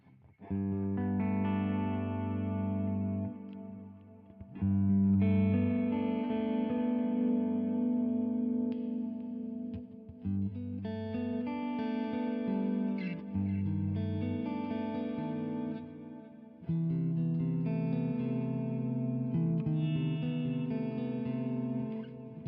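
An electric guitar plays chords and picked notes with a clean, echoing tone, repeats trailing off behind each phrase, continuous and fairly loud.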